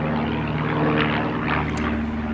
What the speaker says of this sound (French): Les petits avions, ça n'arrête point.